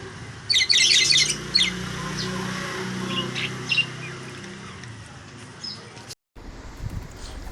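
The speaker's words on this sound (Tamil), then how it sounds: "நம்மக்கிட்ட 6 ஜோடி புறா இருக்குது, ப்ளஸ் ஒரு சிங்கிள் மேலு அண்டு ரீசெண்டாக நெஸ்ட் அவுட் ஆன 2 சிக்கு இருக்குது." Pigeons kept in a home loft with green mesh sides give a burst of shrill chirps and squeaks, then a few fainter calls over a low steady background, with no voices.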